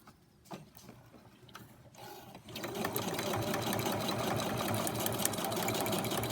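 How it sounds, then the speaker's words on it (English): A sewing machine stitches a charm quilt block, starting with a few clicks and short pauses before running into a steady fast whir and rattle, close and even. "Just go carefully down towards the pin. Remove the pin. And then continue sewing."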